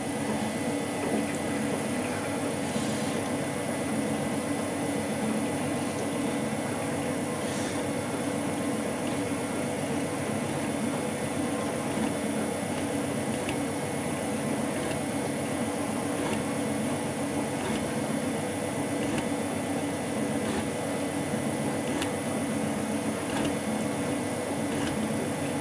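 Machine taking the first cut on a spindle gear, a steady mechanical whir and hum with faint periodic ticks, running continuously without any talk.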